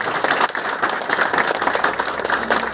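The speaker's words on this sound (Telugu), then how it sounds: "సో గట్టిగా big round applause to the విఎంసీఎం members" An audience at an anniversary celebration event claps in a big, sustained round of applause, dense and steady throughout with no voices over it.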